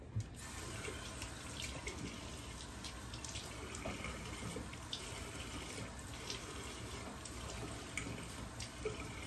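A bathroom sink tap runs steadily for about nine seconds while someone wets their face, with a soft, continuous water hiss and faint splashes close by and no talking.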